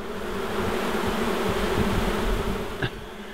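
A colony of bees nesting inside a pot hums in a dense, steady buzz up close, continuous and unbroken, with no voices.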